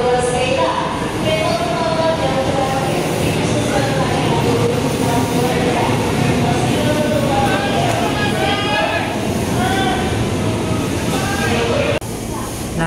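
Commuter train bound for Jakarta Kota, carriage noise rumbling steadily with squealing wheel and brake tones, heard from on board with people talking around.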